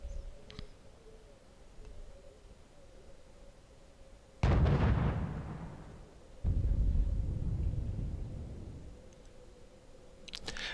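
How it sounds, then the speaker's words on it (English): Two heavy cannon blasts from a tank firing at a T-34 in a war video game, each a sudden close boom trailing into a long rumbling decay, set a couple of seconds apart over a low engine hum. "Looks like we found yet another T-34 tank. Let's take a couple of shots at it,"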